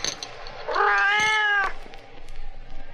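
A cat named Sammy meows once, a clear drawn-out cry lasting under a second, offered frozen milk cubes in a saucer, with faint room noise around it.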